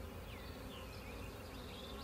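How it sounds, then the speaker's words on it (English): Swarm of honey bees flying around a beekeeper's head during hiving, a continuous close buzzing drone with individual bees passing near, faint and steady, with no talking. "You do have a ton of bees flying around your head"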